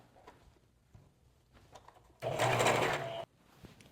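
A sewing machine stitches stretched elastic onto a jumpsuit in one loud, fast, continuous burst of about a second, with quiet handling noises before and after.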